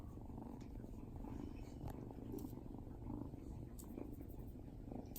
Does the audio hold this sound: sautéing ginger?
no